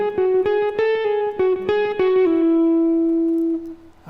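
An electric guitar plays a phrase from a guitar solo, with sustained, slightly driven single notes linked by hammer-ons and pull-offs in a quick melodic run, ending on a long held note that fades out.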